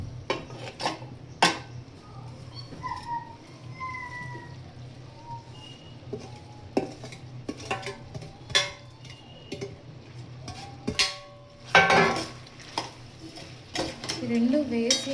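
Masala and ginger-shallot paste go into a pan for chicken fry, heard as scattered clinks and scrapes of a spoon against metal, with light stirring and a faint sizzle throughout.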